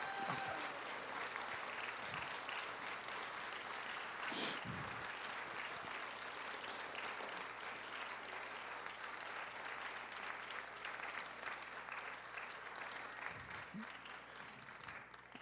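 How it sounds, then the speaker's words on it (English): A church congregation applauding, sustained even clapping from a large crowd over several seconds, moderately distant and steady, with a brief sharper accent early on. "So will you give them one more big round of applause?"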